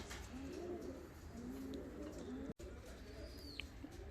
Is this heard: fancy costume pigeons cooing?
yes